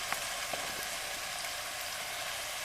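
Cut bitter gourd (karela) pieces fry in a pan with a steady, fairly quiet sizzle and scattered light crackles, and no voices.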